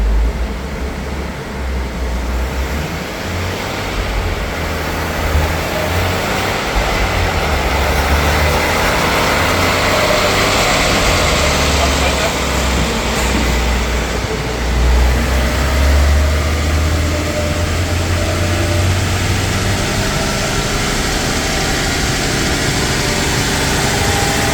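An Opel Corsa engine drones loudly and continuously under dynamometer load, a steady low rumble held at constant revs with no talking.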